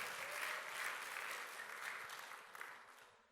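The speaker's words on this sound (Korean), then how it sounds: "박수로 하나님께 영광을." A church congregation claps together during a Sunday sermon, a steady, dense wash of applause heard from some distance that holds evenly and then thins out at the very end.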